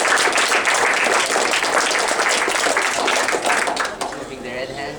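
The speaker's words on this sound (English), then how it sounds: "if everyone could just clap right now" A presentation audience claps together in a dense, steady burst that fades off toward the end, with some voices mixed in underneath.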